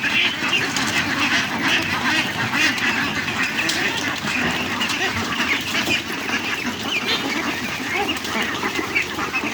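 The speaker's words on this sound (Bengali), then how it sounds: "দেখেন কতগুলো দেশি হাঁস" A large flock of local deshi ducks at a village duck farm quacks in a dense, continuous chorus close by, loud and without pause.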